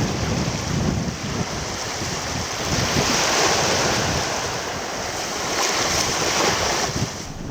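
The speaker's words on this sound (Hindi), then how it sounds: "टूटती और टकराती लहरें, समुद्र का हर नजारा यहाँ खास है" Ocean waves break and crash along a Lakshadweep shore, a loud, continuous surf roar that swells and eases over several seconds, mixed with wind buffeting the microphone.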